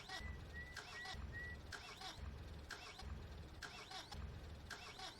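Vehicle engine starting up in Farming Simulator 19, a game engine sound with repeated cranking bursts in a steady rhythm, loud and close throughout with no talk.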